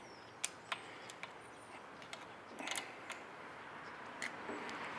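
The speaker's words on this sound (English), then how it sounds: "we're going to get a 10mm wrench. We're going to crack these nuts loose." A 10mm wrench cracks engine nuts loose, giving a few faint, isolated metallic clicks and a brief creak against a quiet hum of room noise.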